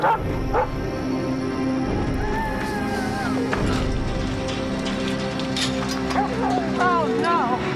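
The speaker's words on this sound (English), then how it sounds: "Grady, go call the sheriff to get rid of that dog" A dog in a dramatic TV scene barks, yips and whimpers in a steady run of sharp calls and whines over a dense, noisy background of music and effects, with voices present.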